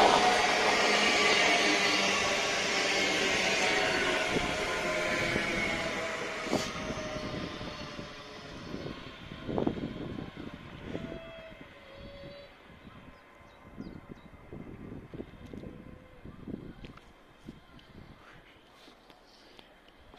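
A Class 385 electric train pulls into the platform at Croy station, its loud rising whine and rumble gradually fading as it slows, followed by quieter clanks, squeals and thumps of the stopping train.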